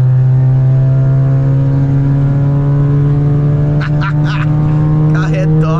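Volkswagen Jetta 1.4 TSI launching and accelerating hard, its loud, steady engine drone building from start to finish, with brief voices talking near the end.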